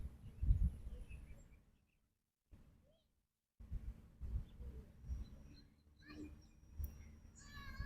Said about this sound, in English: I hope you can hear the song of the birds here in the park with me.